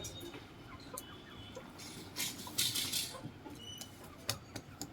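Chickens on a farm cluck and squawk in scattered, uneven calls, with a louder flurry in the middle and light patter of movement, close but quiet with no talking.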